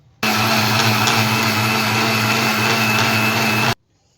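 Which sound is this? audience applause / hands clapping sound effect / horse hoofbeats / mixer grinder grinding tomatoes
mixer grinder grinding tomatoes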